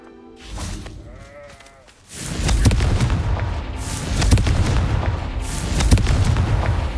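Confringo, the fiery blasting spell in Hogwarts Legacy, erupts as a loud explosive burst with a rumbling, crackling tail that carries through the rest of the clip. A brief wavering vocal sound comes just before it.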